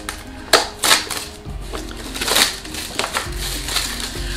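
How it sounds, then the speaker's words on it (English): Crinkly cellophane wrapping is torn and crumpled off a Game of Thrones house sigil stamp set, sharp crackles and rustles coming in several close bursts over a faint background hum. "I love how it looks like it takes a lot of strength for me to open it when it's just cellophane"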